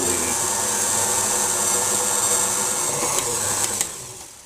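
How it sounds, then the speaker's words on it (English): An electric mixer slowly beats carrot cake batter, giving a steady, unbroken motor whir at close range with a couple of light clacks near the end. "I'm just going to turn this on and mix it slowly."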